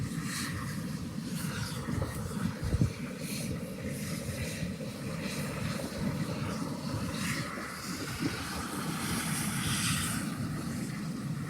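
A helicopter at a medical airlift scene in a Central Park in Santa Clarita gives off a steady, mid-distance rotor and engine drone under wind noise, with some faint background sounds.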